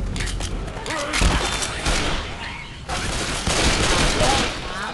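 Rapid bursts of gunfire in the video game Left 4 Dead 2, loud and continuous with booming shots and thuds, with voices talking over the shooting.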